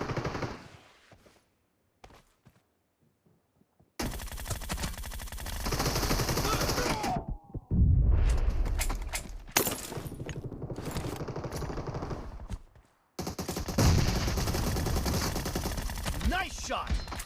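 Gunfire in the video game PUBG played on a OnePlus Nord phone, rapid automatic bursts and single shots in clusters separated by near-silent gaps, loud and sharp with game effects mixed in.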